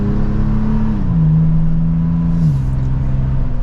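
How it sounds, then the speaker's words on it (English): A 2023 Toyota 4Runner TRD Pro with its TRD exhaust, recorded from inside while driving, drones loud and steady with a low engine hum that steps down in pitch as the gears change. No one speaks. "Let's listen to that TRD exhaust."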